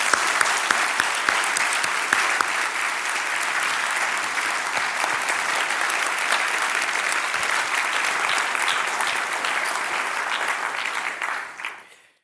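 An audience at a Darwin College lecture applauds to welcome Iain McGilchrist to the stage, steady dense clapping from a large crowd that holds for about eleven seconds, then quickly fades out.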